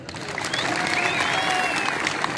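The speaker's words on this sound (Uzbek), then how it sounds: "bitta qarsak bo'lsa" Sustained audience applause at a kurash wrestling tournament in Varganza village, Kitob district, Qashqadaryo, a dense steady wash of clapping from a crowd lasting the whole moment.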